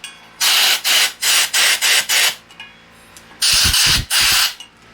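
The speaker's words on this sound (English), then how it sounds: "I want to make sure that I blow air in here and make sure that there's no spider webs or mud daubers or anything." Compressed air blown in short, loud hissing bursts into a 1960 Coleman 500a stove, about eight blasts in two quick groups separated by a brief pause, close to the source.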